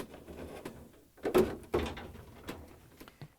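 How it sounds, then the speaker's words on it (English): Freezer drawer rail on an LG/Kenmore refrigerator pushed back, giving a few close plastic-and-metal knocks and a sliding clatter, with two louder clunks in the middle, no talking. "And I'm going to push the rail back."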